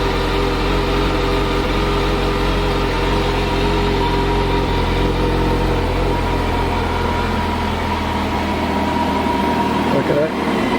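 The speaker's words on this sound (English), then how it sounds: "It's quite quiet, but there are aftermarket exhausts if you want to get them." Idle of a concours-condition engine through its stock exhaust, a steady, fairly quiet low rumble with a constant hum that holds evenly throughout with no revving.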